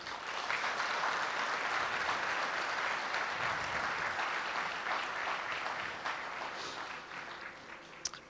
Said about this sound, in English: Let's give another big applause for them.